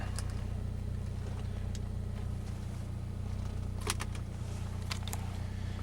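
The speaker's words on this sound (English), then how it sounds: "Maybe just a couple more revs, because this car does sound pretty good." A 2006 Saab 9-3 engine idles steadily nearby, a low, even rumble with faint clicks and ticks over it and no voices.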